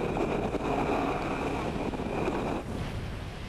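Strong 20 to 25 knot wind at sea at the start of the Volvo Ocean Race, a loud, constant roar of gusting air buffeting the microphone over rushing water and waves.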